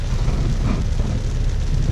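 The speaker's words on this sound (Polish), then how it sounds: "Deszcz z małym gradem pojawił się." Steady rain mixed with small hail pelts down outdoors, a dense, loud and even hiss and patter that fills the whole stretch with no voices.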